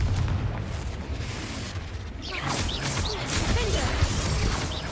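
A Confringo blasting spell explodes in the Hogwarts Legacy video game, a booming burst with crackling debris over a steady rumbling game soundscape.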